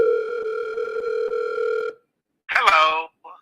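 A telephone line tone plays as a call is placed, a steady electronic tone with faint ticks for about two seconds, then cut off by silence and a brief burst of processed, voice-like sound.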